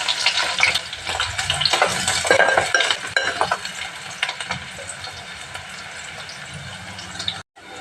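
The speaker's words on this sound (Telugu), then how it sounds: "ఉల్లిపాయలు వేసేసుకుందాం" Onions frying in oil for a bitter gourd stir-fry, a continuous close hiss and sizzle with spatula scrapes and stirring clatter that settle into a steadier fry before a brief cut near the end.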